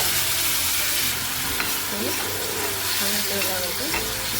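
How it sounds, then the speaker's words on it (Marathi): Steady sizzling of garlic frying in hot oil, with faint stirring and a brief voice-like tone partway through. "लसूण नंतर फोडणीमध्ये घातलं ना तेलावरती थोडंसं फ्राय करून घ्यायचं आहे"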